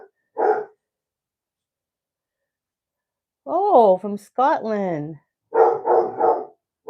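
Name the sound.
dogs barking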